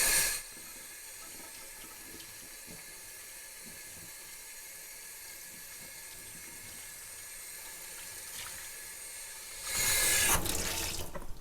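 Water runs steadily from a tap into a sink while dish soap is rinsed off, a constant hissing flow that holds for several seconds before surging louder and splashier near the end, with no talk.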